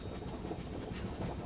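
The Mandovi Express runs along the Konkan Railway, heard from inside as a continuous rumbling roll with soft clickety-clack of wheels over rail joints.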